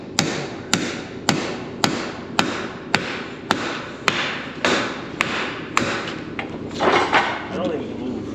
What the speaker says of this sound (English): I got this hammer at Napa.